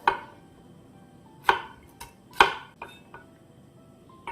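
Knife julienning chestnuts on a cutting board, a handful of sharp separate chops landing at irregular intervals, close and clear with a quiet background between strikes.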